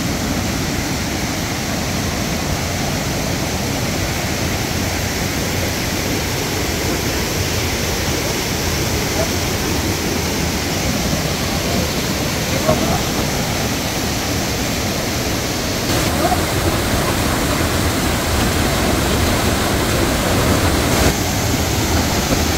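Pangyan Falls, a waterfall near Mati City, pours with a constant loud roar of rushing water, broad and unbroken throughout, with no voices over it.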